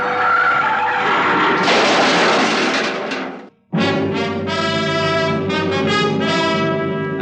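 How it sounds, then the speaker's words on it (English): A car's brakes are jammed hard near a toll gate: a loud engine roar, a brief drop to near silence, then a long, piercing tire screech as the wheels skid, close and alone. "I took my foot off the accelerator and then jammed down on the brakes as hard as I could."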